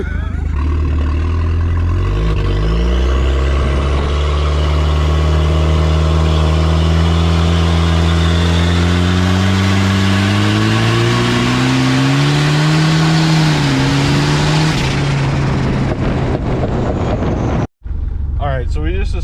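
Turbocharged stock station wagon at 30 psi of boost, its engine revving hard and loud with rising and falling harmonics under steady wind noise, launching with rocks flying, then cutting off abruptly near the end.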